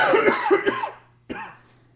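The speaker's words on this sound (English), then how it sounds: "I was just coughing." Two sharp coughs close to the microphone, the first a raspy burst with some throat sound, the second short and quick after a brief pause.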